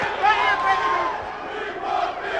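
A wrestling arena crowd cheers and yells in a continuous loud roar, with individual shouts and whoops standing out from the dense mass of voices.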